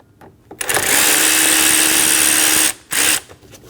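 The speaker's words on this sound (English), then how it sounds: "Using a T15 bit, we're going to remove the 2 screws for the intake." Power drill with a T15 bit backing out screws on the intake of a 2012-2022 Volkswagen Passat 2.5L five-cylinder, a loud close whir for about two seconds, a brief stop, then a short second burst.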